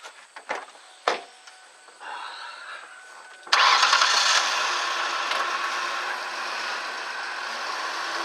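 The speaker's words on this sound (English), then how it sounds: "I'm gonna go ahead and start the car up and drive up on it." A car engine cranks and catches at a roadside tire change, a few clicks and a short crank before it fires, then settles into a steady, fairly loud idle that holds to the end.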